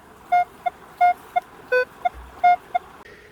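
Metal detector signal tones in wooded ground: a repeating pattern of short electronic beeps, longer and shorter pulses alternating about three times, clear and close with no talking.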